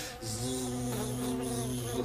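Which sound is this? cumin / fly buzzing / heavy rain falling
fly buzzing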